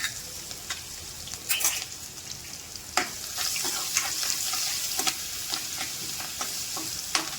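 Asafoetida and ginger paste sizzle in hot oil in a pan for Rajasthani pakoda kadhi, a steady frying hiss broken by scattered crackles and stirring clinks, with no voice.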